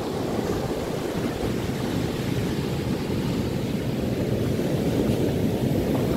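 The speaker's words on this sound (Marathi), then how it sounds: "लाटा पण मस्त होतात आहेत." Sea waves break continuously on a clean beach at Tambade, making a dense, even wash of surf noise mixed with gusty wind buffeting the microphone, with no voices.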